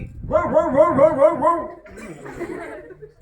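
A dog barks in a string of about five quick, loud, close barks at a rural Indian house in a village play, followed by softer whimpering yips and low background talk.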